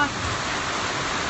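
Rain during a drought, falling as a steady broadband hiss with no distinct drops, continuous and fairly close.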